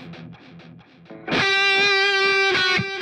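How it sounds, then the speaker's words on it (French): A heavy metal guitar solo played through a NUX MG30 with a pan delay. It starts as a dry, chugging riff, then bursts into a loud, sustained, distorted lead note that rings on over the rhythm. "On va ajouter un petit pan delay pour grossir la présence du solo dans tout ce bazar."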